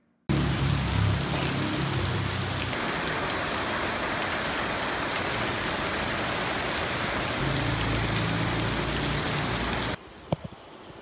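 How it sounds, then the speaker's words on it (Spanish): Heavy rain pours steadily on Koh Samui island in Thailand, a dense, loud, unbroken hiss of falling water lasting about ten seconds before dropping away abruptly, with no voices. "Isla Koh Samui, no para de llover en 3 días."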